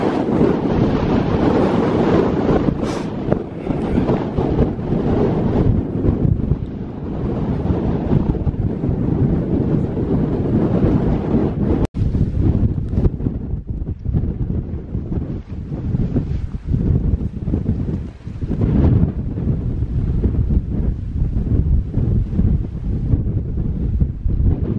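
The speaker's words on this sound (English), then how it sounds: "And it's another windy one." Strong wind batters a mountain summit in Snowdonia's Rhinogs, a loud, continuous roar of gusts buffeting the microphone throughout, with no talking.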